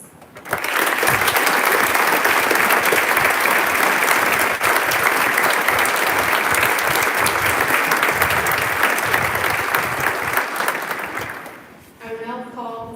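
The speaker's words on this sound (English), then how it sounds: "I invite you once again to express your recognition by applause." Sustained, loud audience applause at a college honors convocation for prize and award recipients, steady dense clapping for about eleven seconds before fading, followed by a brief voice.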